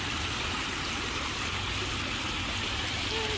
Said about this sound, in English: there's the water's flowing under here